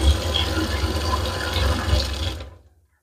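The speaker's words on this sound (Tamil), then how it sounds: "இப்போ நம்ம வந்து திறந்து பார்க்கலாம், தண்ணி வந்து ஃபுல்லாக கிளியர் ஆகுதா நம்ம பார்க்கலாம்" Water drains rushing through a kitchen sink freshly unclogged with Harpic drain cleaner, a loud, gurgling flow. It runs steadily for over two seconds, then quickly fades to silence as the basin empties.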